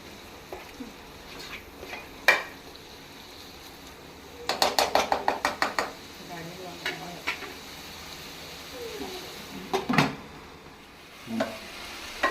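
Ginger garlic paste and tomato frying in a pan for restaurant-style chole, with a soft sizzle broken by a quick burst of spatula scrapes and a few metallic clinks against the pan.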